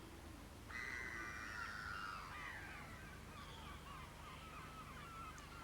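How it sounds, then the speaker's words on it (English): Seagulls calling over a deserted seaside town in winter, with one long, loud, wailing cry followed by a fainter answering call against a quiet, steady background. "Only the noise of seagulls remains."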